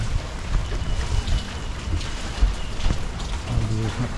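Light rain patters steadily with a soft, continuous hiss, broken by occasional heavier drips and a faint low rumble in the background.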